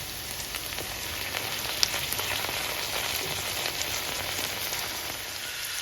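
Carrots frying in a pan with softened onions and garlic, an even, fine crackling sizzle that holds steady throughout with one brief tick, fairly quiet and without voices.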